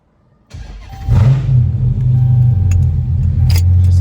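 A car engine cranks and catches, then settles into a steady, loud idle close by, following a brief rustle at the start; no talking over it.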